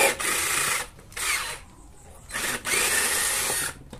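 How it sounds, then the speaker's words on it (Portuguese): Power drill boring holes into a small piece of wood for a homemade cabinet-door drilling jig, heard as three loud, close bursts of whirring and grinding with short pauses between them. "Antes de eu colocar essa madeirinha aqui, eu vou ter que fazer dois furos nela. Vou fazer um furo aqui."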